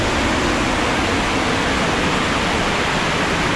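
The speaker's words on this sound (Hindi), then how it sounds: "भाई ये है अपना झरना," Waterfall along a bamboo trail trek in Mawryngkhang, a steady, loud, close rush of falling water filling the whole clip without a break, no voices over it.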